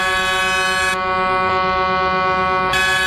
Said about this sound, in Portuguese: a buzina do maluco ali travou